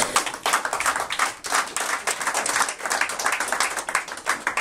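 A church congregation bursts into dense, continuous applause, many hands clapping together at close range and at full strength throughout, with no voices over it.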